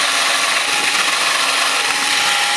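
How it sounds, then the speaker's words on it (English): A 1/4 inch drill bores through a hole in a rotor mast part, giving a steady, loud whirring and grinding that holds on without a break and has no talk over it. "I'll take a drill and that same 1/4 inch drill works pretty well."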